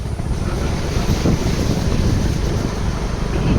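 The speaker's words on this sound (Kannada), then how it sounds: "ತಣ್ಣು ಗಾಳಿ ಒಂದು ಬೀಸ್ತೈತೆ" Cool wind gusting steadily at Butterfly Beach, Goa, a loud, continuous roar of air buffeting the microphone with the wash of ocean waves mixed beneath it throughout.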